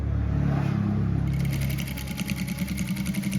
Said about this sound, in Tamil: இதில் நாங்கள் அப்படியே மேலால் படிமான தையல் போடுறோம்